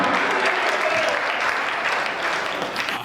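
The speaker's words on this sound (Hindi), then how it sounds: "ताली वाली बजाओ भाई साहब।" An audience at a stage comedy show breaks into applause, a dense, even wash of clapping that holds steady for about three seconds before tapering off.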